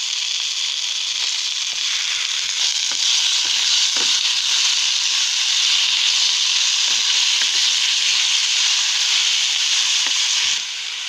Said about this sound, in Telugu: పచ్చిమిర్చి ఫ్రై అవుతూ ఉన్నప్పుడు